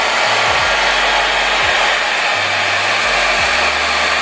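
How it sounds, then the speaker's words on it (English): A hair dryer blows steadily and loudly throughout, drying a lace front wig, a continuous close whooshing roar with slight shifts in pitch. "now we are going to take a handy dandy blow dryer and we're going to blow dry it"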